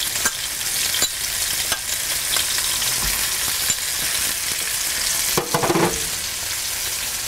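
Butter sizzles in two skillets holding browned lamb chops, a steady, close, loud frying hiss with a few soft clicks and knocks of utensils against the pans, and no voices.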